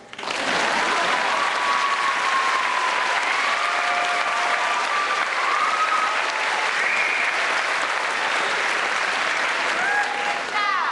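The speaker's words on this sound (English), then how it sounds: "Applause." A commencement crowd applauds as degrees and certificates are conferred, broad sustained clapping with faint cheers and whistles rising over it throughout.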